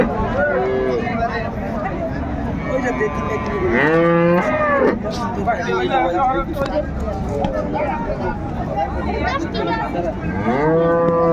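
Dairy cows and calves moo repeatedly at a busy cattle market in Cumilla, Bangladesh, with people chattering; long low calls rise and fall, some close and loud.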